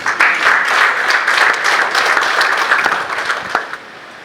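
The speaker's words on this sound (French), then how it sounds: "vous demande de vous acclamer vous-même" A church congregation at a homily in Cotonou applauds itself, with sustained dense clapping from a large crowd that holds steady for several seconds and then begins to taper off.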